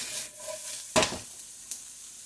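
Food sizzles in a hot pan while being caramelized for corned beef and cabbage, a faint steady fry with a sharp clatter near the middle and a lighter knock later.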